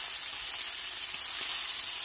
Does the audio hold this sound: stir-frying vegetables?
yes